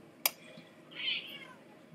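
One faint, drawn-out cat meow sounds in a quiet room, preceded by a brief click.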